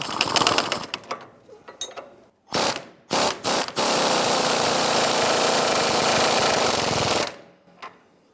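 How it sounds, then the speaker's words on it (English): A 21mm socket on a ratchet tightens a strut mount nut on a 2005-2010 Chrysler 300, with a few short ratcheting bursts followed by a long, loud, continuous clicking rattle up close, no talk. "on this side here, we're going to use a 21mm socket to go ahead and tighten that down"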